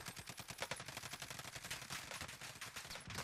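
Rapid SCAR-H rifle bursts in the Warzone battle royale game, a fast run of close, sharp shots throughout, fairly quiet overall with no voices.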